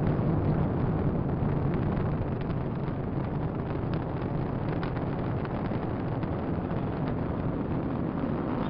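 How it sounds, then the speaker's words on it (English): A SpaceX Falcon 9 rocket lifts off carrying a Dragon cargo capsule to the International Space Station, a continuous broad roar with wind buffeting, steady and loud throughout with no voices. "Liftoff of the SpaceX Falcon 9 rocket, launching Dragon to the International Space Station"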